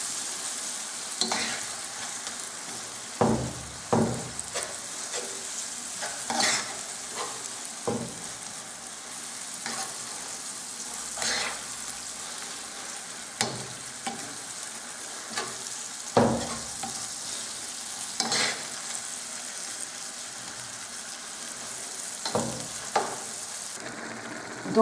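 Meat with sweet red pepper fries in a pan over lowered heat while being stirred, a steady close sizzle broken by repeated scraping strokes of a utensil throughout.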